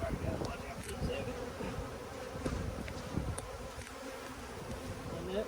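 Agitated honey bees swarm around an opened hive with the super being put back on, a dense continuous buzzing close by along with faint handling noises.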